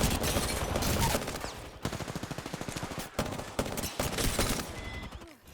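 Rapid gunfire from the Apex Legends game rattles in dense bursts, loud and close, with brief pauses between volleys.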